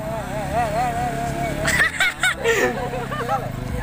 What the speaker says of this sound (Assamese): এয়া আমাৰ এতিয়া বাইক শিকাই আছে